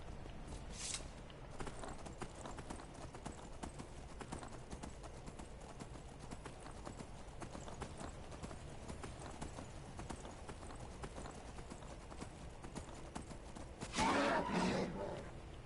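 Steady clip-clop of horse hooves in the video game Skyrim over a low background rumble, with a brief loud burst like a whinny near the end.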